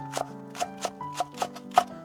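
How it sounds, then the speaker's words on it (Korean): A knife cuts through half a stalk of green onion on a cutting board, giving about seven crisp, close chopping taps at an even pace, with faint background hum between them. "파 반줄입니다. 100g입니다. 반 썰어 주세요."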